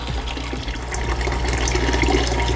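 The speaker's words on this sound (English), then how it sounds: "get most of the water out." Water poured and drained out of a 5-gallon bucket holding new aquarium shrimp, a steady close splashing rush of liquid throughout.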